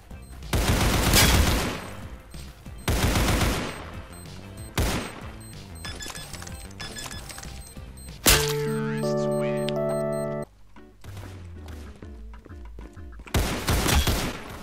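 AK rifle fire in the Roblox shooter Counter Blox: several loud, close bursts of rapid automatic shots separated by pauses, with game chimes and tones sounding between bursts.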